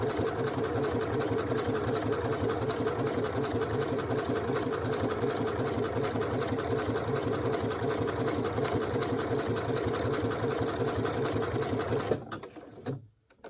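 A sewing machine runs continuously at close range while stitching a zigzag buttonhole, its steady rapid needle chatter holding an even drone for about twelve seconds before stopping abruptly, followed by a few faint handling clicks.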